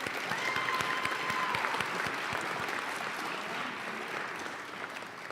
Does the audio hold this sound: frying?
no